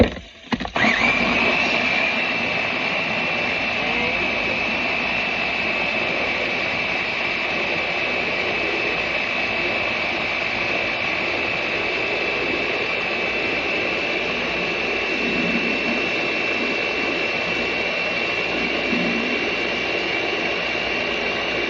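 A kitchen blender whirs steadily while blending sofrito ingredients, a loud continuous motor drone that starts abruptly and runs unchanged for about twenty seconds, with no talk over it.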